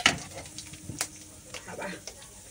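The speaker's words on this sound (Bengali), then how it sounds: "তেলের মধ্যে দিয়ে দিলাম শুকনো লঙ্কা দিলাম, আর দিয়ে দিলাম এই যে কালো জিরে দিয়ে দিয়েছি" Dried red chillies and black cumin seeds sizzle softly in hot oil, with light crackles and a few stirring clinks under a voice.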